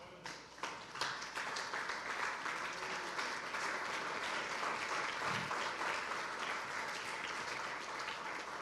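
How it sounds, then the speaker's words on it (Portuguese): A church congregation stands and applauds during a sermon, with dense, sustained clapping that fills the room at moderate volume and barely any speech. "Fique de pé e aplauda o Senhor."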